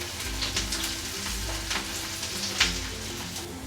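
Sliced onions and curry leaves sizzle in hot oil in a pan for Telangana-style spicy mutton boti fry, a steady close crackling fry with faint stirring clinks and no talking.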